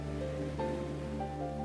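Sea waves wash onto the shore in a steady, soft rush, fairly faint and continuous, with a low hum beneath and no talk.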